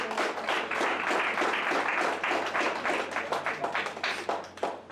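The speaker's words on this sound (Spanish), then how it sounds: "den un aplauso al Señor" A church congregation claps together after a call to praise, a lively mass of overlapping hand claps that holds strong and then thins into scattered individual claps toward the end, with a low steady hum beneath.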